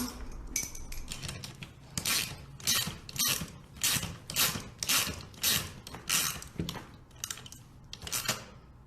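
Costume wing parts being tightened down, a steady run of repeated ratcheting clicks and mechanical rasps close up, alone and fairly loud.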